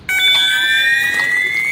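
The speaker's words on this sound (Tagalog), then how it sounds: "Ito nga pala ang example ng tunog ng fire alarm system." A building fire alarm system sounds a loud, continuous electronic tone with steady high harmonics, starting abruptly and holding without a break, close and alone.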